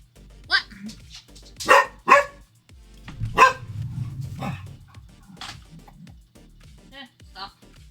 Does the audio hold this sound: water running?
no